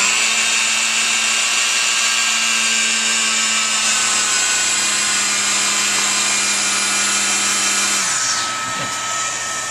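An HSK28 plastic extrusion welder purges old clear material with a loud, steady motorized whine and blower roar that holds constant before dipping and shifting near the end, close with no talking.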